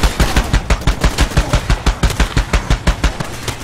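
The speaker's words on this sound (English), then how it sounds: "apparently this is a 50 caliber" A .50 caliber machine gun fires in the video game Far Cry 2 in loud, rapid, evenly spaced bursts of heavy shots. The firing runs continuously, close and dominant, with no talk over it.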